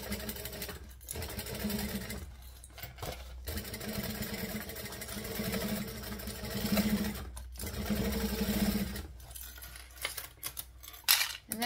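A sewing machine stitches a hacked Siren bag in a steady, close mechanical whir, pausing briefly several times as the needle stops and the fabric is adjusted.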